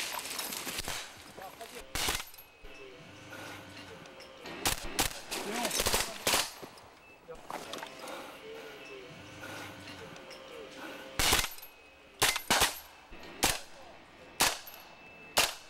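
Gunfire in a military training exercise as friendly troops counterattack an opposing force: sharp, loud bursts of shots scattered irregularly, some single and some in quick clusters, over a noisy field background with occasional voices.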